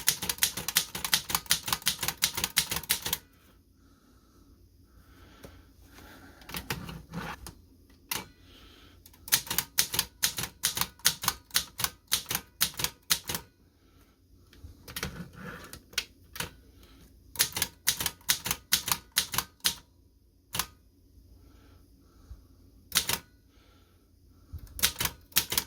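A 104-year-old Corona 3 typewriter clatters in bursts of rapid keystrokes, loud and close, separated by quiet pauses and a few single clacks.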